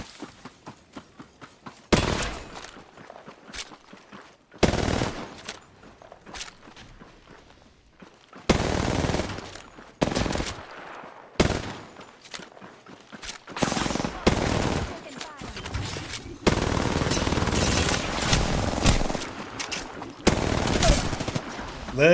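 Hip-fire gunfire in Apex Legends comes in loud, separate bursts of rapid automatic shots, with short pauses between them and a longer, denser volley near the end.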